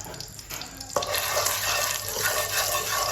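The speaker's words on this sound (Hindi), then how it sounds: "और नमक को मिक्स करेंगे अच्छी तरह से हम" Salt is stirred into hot ghee in a pot on the stove for popcorn, a quiet scrape giving way to a loud, steady sizzling stir after a sharp clack.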